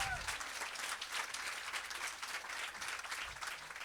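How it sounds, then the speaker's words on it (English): A theater audience claps for a mother and her companion seated among them, moderate and steady applause at a distance, somewhat faint and even throughout. "Give them a round of applause."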